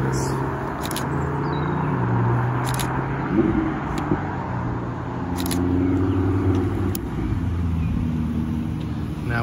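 An Audi R8 driving through an outdoor car meet, its engine note steady and moderately near amid crowd murmur and camera clicks, with people talking in the background.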